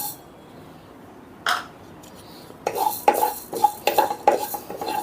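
Coriander seeds dry-roasting in a pan for a bitter gourd fry masala: a spatula scrapes and knocks against the metal in a run of close, uneven strokes that begins after a quiet start, with no talk.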